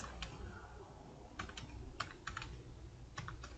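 Quiet, close typing on a computer keyboard, irregular bursts of key clicks with short pauses between them, no one talking.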